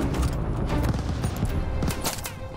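Dense gunfire rattles through a Call of Duty: Vanguard battle, with steady overlapping shots and dull booms forming a loud, continuous wall of combat noise and no voices on top.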